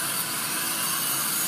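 A Dremel rotary tool with a sanding drum carves wood, making a continuous close, harsh grinding whir that stays even throughout the short stretch, with no voices.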